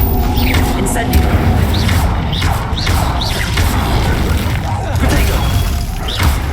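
Spell combat in Hogwarts Legacy as the Incendio fire spell is cast: dense, continuous booms and crashing impacts with high chirping magical whooshes layered over a steady, loud game soundscape.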